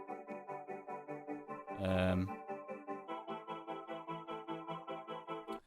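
Bright, stacked future bass synth chords pulse in a quick rhythmic pattern, broken by a short burst of noisy, swelling texture partway through.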